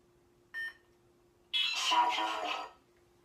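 Two electronic beeps from a lightsaber sound board switching fonts: a short, thin one, then a longer, louder tone with a crackly texture, separated by a brief silence.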